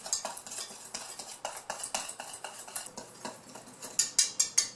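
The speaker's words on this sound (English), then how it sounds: "Whisk all of our dry ingredients." Dry cake ingredients for a strawberry cake, including cardamom, whisked in a bowl: a steady run of quick, close scraping taps against the bowl, sharper and louder clinks near the end.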